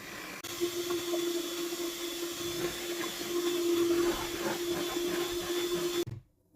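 An electric mixer whips butter for chocolate plombir cream, a continuous close whirring drone that runs steadily for about six seconds before cutting off abruptly.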